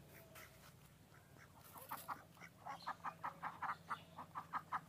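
Ducks and chickens call nearby in a quiet outdoor setting. A low hum sits under the scene at first, then quick, repeated quacking bursts build up through the second half.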